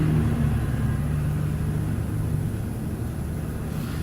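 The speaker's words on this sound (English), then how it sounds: "Sorry if you hear that truck in the background." A truck passes outside an old building that houses a studio, a steady low engine rumble holding throughout at moderate level, fading slightly toward the end.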